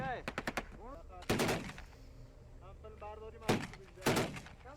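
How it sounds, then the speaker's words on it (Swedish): Gunfire during the war in Afghanistan: a quick burst of distant shots followed by heavier single cracks spaced apart, with people talking throughout. "Skottlossningen är att Ana skjuter på misstänkta punkter just nu"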